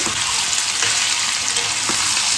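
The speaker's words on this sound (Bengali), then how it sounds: "আলুটা ভাজা হচ্ছে" Potatoes frying in mustard oil give a steady, close hiss of sizzling for the whole stretch, with faint stirring scrapes now and then and no voices.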